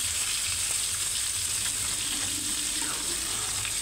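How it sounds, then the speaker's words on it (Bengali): Koi fish fry in plenty of oil in a wok, making a continuous, even sizzle at moderate loudness with no talking. "এভাবে উল্টিয়ে পাল্টিয়ে মাছগুলোকে ভেজে নিতে হবে।"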